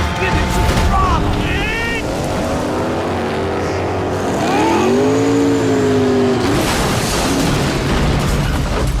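A speedboat engine runs at full throttle in Max Payne 3, a loud continuous roar with rising and falling pitch as it powers ahead, mixed with game effects and voices.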